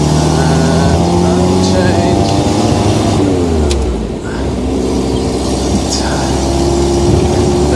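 A vintage Paramount car engine hums and drones steadily while driving, with a low rumble and shifting pitch as it pulls along.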